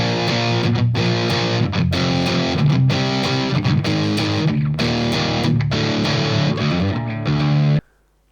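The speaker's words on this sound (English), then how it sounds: "the BEOD clone sounds pretty harsh" Electric guitar played through a BEOD clone distortion pedal, harsh and saturated, strummed chords and riffs ringing densely for about eight seconds before cutting off abruptly into near silence.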